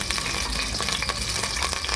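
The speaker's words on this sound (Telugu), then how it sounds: "లవంగాలు, అనాస పువ్వు, యాలుక్కాయలు, జీలకర్ర ఇవి కొంచెం వేగాలి" Cloves, star anise, cardamom and cumin sizzle in hot oil in a pot, a close, steady crackling fry with small pops and occasional stirring.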